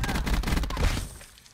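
Gunfire from a Black Ops 4 video game 1v1 match, a loud rapid burst of shots fired through a wall, trailing off after about a second.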